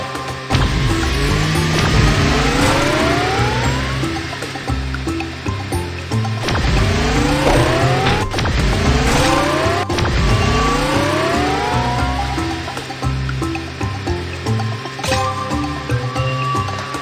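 Cartoon race cars speeding around laps at a carnival, loud whooshing engine sweeps rising and falling as cars pass, over a steady busy backdrop of sound effects.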